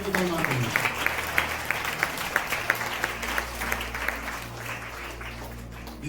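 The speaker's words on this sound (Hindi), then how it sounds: "जोरदार ताली बजाओ परमेश्वर की महिमा के लिए।" A church congregation claps in quick rhythmic unison for several seconds at a worship service, with a low droning hum underneath and a voice faintly audible at the start.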